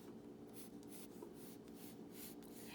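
Soft scratchy strokes of a pencil sketching a ground line on paper for a textured tree drawing, a few short swishing passes at close range, quiet and with no talking.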